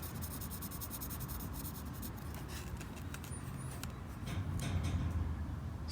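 Graphite pencil rubbed across an opal to bring out a fault line, heard as a faint, close scratchy rubbing in short repeated strokes over a low background hum.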